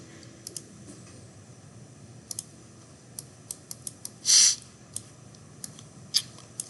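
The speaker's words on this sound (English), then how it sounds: "if I type that in" Computer keyboard keystrokes: sparse, quiet clicks and taps at irregular intervals, with one brief louder burst midway.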